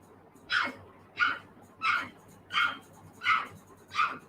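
A person imitates a dog barking, six evenly spaced "woof" sounds in a steady rhythm, close and moderately soft.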